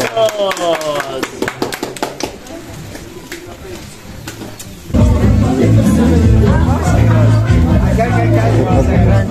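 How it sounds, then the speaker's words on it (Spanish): Family members clap and cheer at a mother's birthday celebration, starting with scattered close claps and then swelling into steady, loud applause mixed with crowd chatter and voices. "aplausos!"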